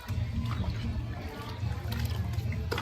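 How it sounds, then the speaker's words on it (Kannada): Water pours and splashes into a vessel of freshly churned butter while making buttermilk, a continuous close trickling with low gurgles and brief clinks, with voices murmuring underneath. "ಇದಕ್ಕೆ ಚೂರು ನೀರು ಹಾಕಿ"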